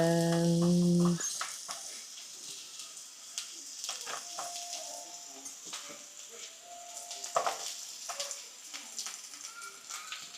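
Onions fry in a good amount of oil over medium heat for Guyanese dry fish and rice, giving a soft, quiet sizzle with light clinks of stirring after a short voice at the start.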